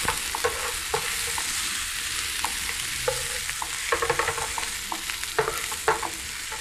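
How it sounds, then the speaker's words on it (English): Onions sauté in a pan with a steady bright sizzle broken by repeated scrapes and taps of stirring, close and moderately quiet, without speech. "You just want to get it a nice sauteed look, not too cooked."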